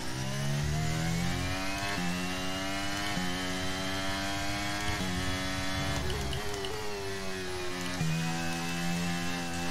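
An F1 racing car engine in the F1 23 video game, revving and accelerating with rising, stepping gear-change pitch, loud and continuous throughout.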